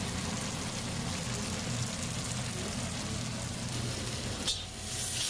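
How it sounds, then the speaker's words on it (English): Crispy beef and vegetables in a pan, steaming after a splash of water, give off a dense, even sizzle and crackle close by that thins into a softer hiss near the end. "quarter cup of water just to steam it up and cook it through and warm everything in through"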